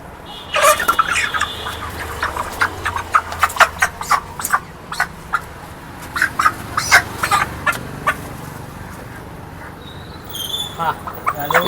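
Bursts of loud fowl calls, clucks and squawks, mixed with people talking nearby and a steady outdoor murmur.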